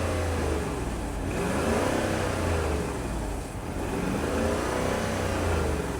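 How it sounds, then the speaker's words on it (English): An abandoned Lexus, parked ten years and idling erratically, has its engine revved twice, each rev a smooth rise and fall in pitch, close and steady with no voices. "I can rev it. Rev's fine."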